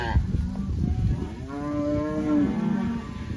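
Cows in a grazing cow herd moo loudly. One long, drawn-out moo rises and falls over a background of rustling and low rumbling, and there is no speech.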